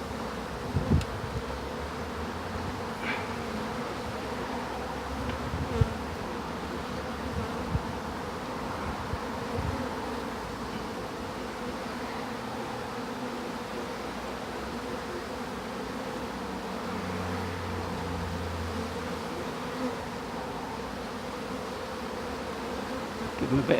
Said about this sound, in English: I wonder how many bees in my hand at the moment